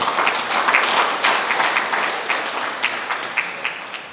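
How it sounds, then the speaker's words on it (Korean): Audience at an art award ceremony breaks into sustained welcoming applause, a dense, steady wash of many hands clapping fairly close and loud throughout, with no talk over it. "모든 분 환영의 뜻으로 큰 환영의 박수를 한번 해주시기 바랍니다"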